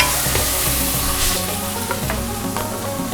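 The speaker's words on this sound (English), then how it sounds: "You want to fry this paste until it's aromatic and slightly dry." Spice paste fries in a pan for an Indonesian Sulawesi-style squid dish, giving a steady, close sizzle with occasional sharper crackles and spatters throughout, with no talk.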